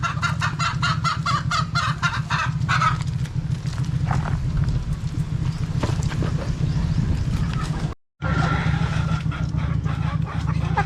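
Hens cluck steadily in a busy chorus, with brief sharp calls over a constant low background hum; a short break near the end.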